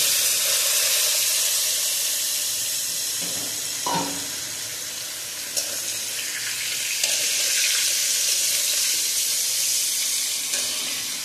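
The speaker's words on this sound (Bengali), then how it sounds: "একটু ভাজা ভাজা করবো আলুটা বন্ধুরা" Boat-shaped cut potatoes frying in hot oil in a kadai, a dense continuous sizzle and hiss that holds close and loud throughout, with a few faint clanks of a spatula and no talking.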